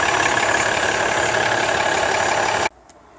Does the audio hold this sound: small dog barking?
no